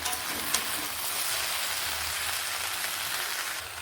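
Mixed vegetables sizzle and fry in a pan for a home-cooked vegetarian curry, a steady close crackle with occasional faint stirring scrapes and no talking.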